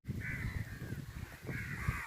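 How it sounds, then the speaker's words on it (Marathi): Several crows caw in two harsh bursts, fairly close and loud, over a steady low rumble of outdoor background noise with no talking, as the birds gather to feed on maize cobs. "किती कावळे तिथं तुम्हाला सगळीकडे कावळेच कावळे."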